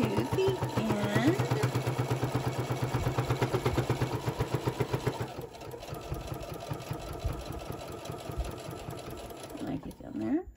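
Sewing machine top stitching a faux leather zipper pouch, a close, rhythmic rapid chatter of the needle that runs steadily, then slows and stops near the end.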